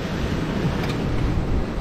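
Gale-force wind buffeting the microphone over rushing waves on a sailboat running downwind in the Bay of Biscay, a dense continuous roar with no speech.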